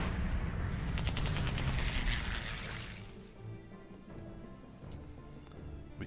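Dense rumbling bursts of bombing in the strategy war game World at War, loud and continuous for about three seconds before easing into a quieter, lingering low rumble.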